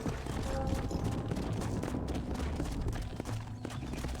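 Horse hooves clip-clop rapidly and steadily on the ground in the Western video game Red Dead Redemption, a continuous close galloping rhythm with faint mechanical rattles underneath.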